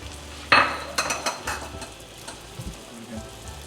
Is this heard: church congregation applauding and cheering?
no